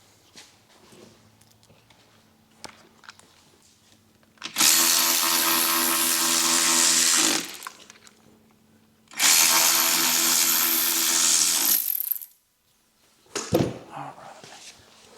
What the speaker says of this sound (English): I'll go ahead and bolt it in place.